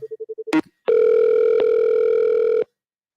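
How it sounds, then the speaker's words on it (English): On an outgoing phone call, a short burst of dial tones and a click give way to a steady, loud electronic ringback tone, heard alone with no voices. "See, you hear the ringing."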